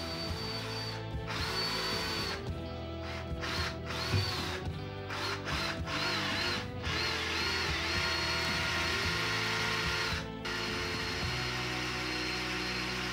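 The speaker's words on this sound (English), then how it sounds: "drilling" A power drill bores into a plastic cup in steady whirring runs, its gearing ratcheting and grinding up close, with several brief pauses and changes in pitch throughout.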